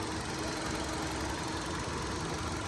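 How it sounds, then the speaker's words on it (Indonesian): A 2012 Kia Rio SE idles steadily with its hood open, giving a continuous, even engine drone with a fine mechanical ticking throughout and no voices. "Ruang mesin bersih, mesin kering halus ya."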